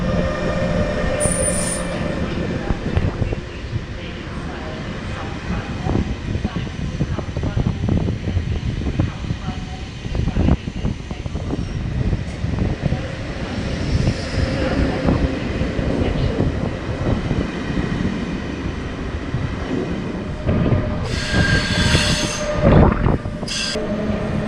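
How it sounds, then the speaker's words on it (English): Austrian Railjet trains pull in and out of a station in Vienna, wheels rumbling and squealing steadily over the rails close by, a short horn-like tone near the end, with people talking faintly in the background. "we can take a look at some Railjets arriving and departing"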